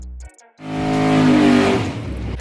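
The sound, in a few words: 427 small block Ford engine running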